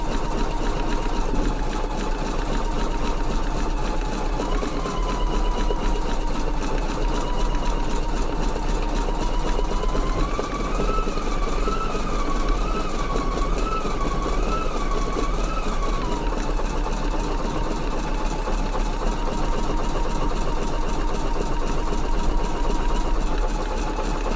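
A Husqvarna EPIC 3 embroidery machine stitches a dense satin border, a loud, continuous whirring hum that runs unbroken throughout with a faint wavering tone on top.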